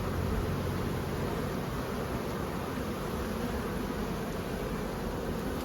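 Honey bees buzzing around an open hive during hive inspection, a dense continuous hum with steady hissing texture lasting nearly six seconds, even and unbroken, no voices.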